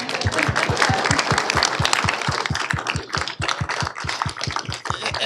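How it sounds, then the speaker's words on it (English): Council meeting audience clapping for a coach: steady, closely spaced claps from a room full of people, sustained and fairly loud throughout, with sharp individual hand strikes standing out near the front. "Sure, you can clap. You can clap."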